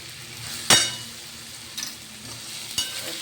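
Ground green chili sizzles softly in a pan as a spoon scrapes and stirs it, with one sharp metallic clink near the start and a few lighter taps after. It is close and quiet, with no talking.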